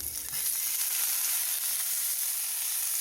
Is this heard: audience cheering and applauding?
no